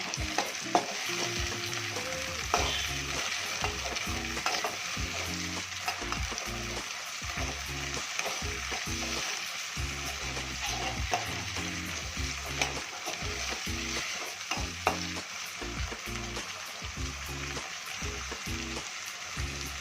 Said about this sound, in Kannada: ಟೊಮೆಟೊ ಫ್ರೈ ಆಗ್ತಾ ಇದೆ